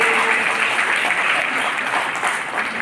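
Loud applause from an audience at a school or community award gathering honouring a first-place achiever, dense continuous clapping close up that holds steady before easing slightly at the end.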